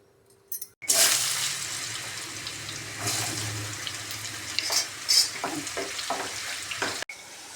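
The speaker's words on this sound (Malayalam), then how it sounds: "എണ്ണ നന്നായിട്ട് ചൂടാകുമ്പോൾ നമുക്ക് മാങ്ങ ഇട്ട് കൊടുക്കാം." Mango pieces dropped into hot sesame oil set off a loud, steady sizzle and bubbling that runs nearly the whole time, with a few soft clinks of a utensil against the pan.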